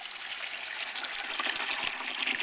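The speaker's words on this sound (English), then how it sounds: "You need to fill it with filtered water" Filtered water pours steadily into the reservoir of an Emerson portable ice maker, a continuous, bright, splashing trickle heard close up with no voices.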